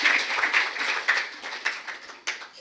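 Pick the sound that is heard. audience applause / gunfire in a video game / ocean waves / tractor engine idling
audience applause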